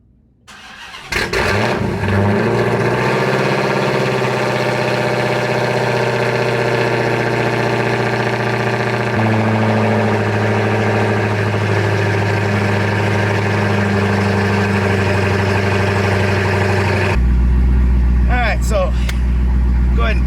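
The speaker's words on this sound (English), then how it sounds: "We're gonna go ahead and get a start on the Hellcat" A 900+ whp Dodge Hellcat cranks and fires up, then settles into a loud, deep, steady idle that shifts lower partway through, with voices briefly at the end.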